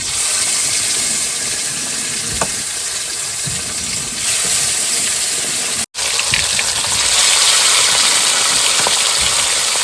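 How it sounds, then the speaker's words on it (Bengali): Fish frying in hot oil, a loud, dense hissing sizzle that runs continuously with brief spits, cutting out for a moment midway before returning even stronger. "তেল গরম হয়ে গেছে বন্ধুরা এবার দিয়ে দেবো মাছ"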